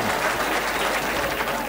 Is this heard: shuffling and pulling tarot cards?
no